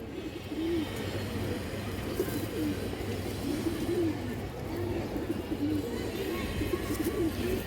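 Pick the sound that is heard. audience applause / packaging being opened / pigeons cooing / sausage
pigeons cooing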